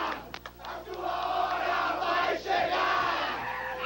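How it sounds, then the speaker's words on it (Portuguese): Vasco da Gama football fans chant in a loud, dense crowd at the 1998 Libertadores final, voices rising and swelling together in sustained, rhythmic singing. "Tá aí a torcida do Vasco."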